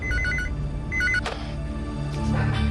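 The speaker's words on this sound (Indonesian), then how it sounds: "Tuan Onur, ada telepon dari Nyonya Mihriban." A telephone rings with repeated short bursts of electronic trilling, two clear rings separated by a pause, set against steady low room tone and a brief knock.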